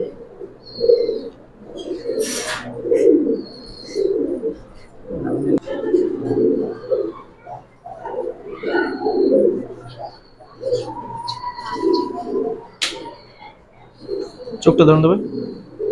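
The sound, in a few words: Golden Pakistani pigeons cooing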